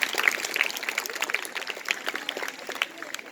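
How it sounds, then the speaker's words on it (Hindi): Moderate audience clapping for two students at a school Maths Day program, a busy patter of quick claps that rises and dips unevenly without settling into a steady roar. "दोनों बच्चों के लिए जोरदार तालियां बजाइए"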